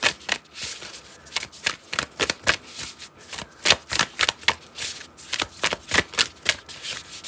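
Tarot cards being shuffled by hand close up, a run of crisp riffling flutters and snaps repeating in a quick, uneven rhythm with no talking.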